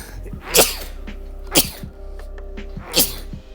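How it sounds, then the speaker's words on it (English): Three sharp sneezes, each a sudden burst of breath, spaced about a second apart over a low steady hum. "Hang on, I gotta sneeze."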